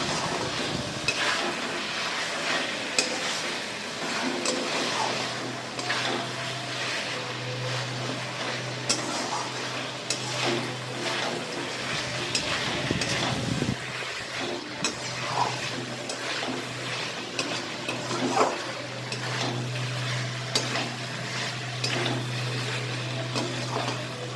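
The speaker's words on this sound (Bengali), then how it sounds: "আমার মশলাটা কষানো হয়ে গেছে" Spice paste sizzles and is stirred in a pan for a fish egg (roe) dish, a steady hissing fry with scraping spoon strokes and a low hum running underneath throughout.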